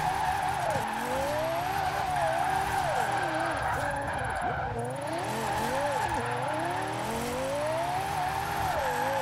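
A Lexus LFA engine in Forza Horizon 4 revs up and down through repeated gear changes, a sharp, high-pitched wail that rises and falls in quick sweeps with tire noise, loud and continuous.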